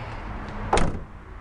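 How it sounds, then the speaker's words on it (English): Interior tray on a 2019 Ford F-150 Platinum being pushed up and shut, a single short clunk-and-slide of plastic near the mic, about a third of a second long, over a quiet cabin background. "push the tray up and close it"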